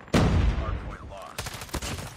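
A Type 25 rifle fires in a video game, opening with a loud close shot, then a steady crackle of rapid rounds with faint voice-like sounds underneath.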